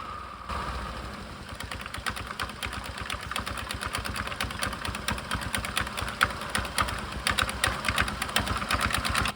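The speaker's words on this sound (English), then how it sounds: "Now I will start the bike and check what is the problem inside of this which is creating this loud noise." A Suzuki Access scooter runs with its drive casing removed and makes a loud noise: a rapid, steady mechanical putter and rattle up close that grows slightly louder over time.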